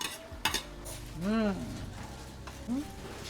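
Mushrooms fry in a pan with a Worcestershire and flour sauce: a soft sizzle under a few scraping stirs of a utensil against the pan, with a brief vocal sound.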